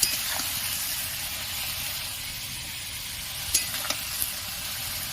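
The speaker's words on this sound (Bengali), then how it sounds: "এইভাবে হালকা করে ভেজে নিতে হবে।" Ridge gourd pieces sizzle steadily in hot oil in a karai, with a few sharp scraping clicks of a spatula stirring them near the end.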